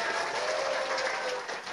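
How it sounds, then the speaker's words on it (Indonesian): Listeners at an Indonesian religious talk give a short burst of applause, a brief, fairly faint wash of clapping with a faint tone beneath it. "Tepuk tangan dulu dong."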